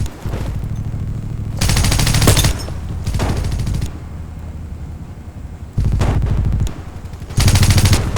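Loud, close automatic gunfire in Rogue Agent comes in four long sustained bursts, each lasting about a second, separated by quieter gaps with lower background rumble.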